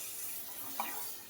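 A little water is poured into gram flour chutney mixed with turmeric and coriander, a soft, brief, steady trickle heard faintly up close with no talking.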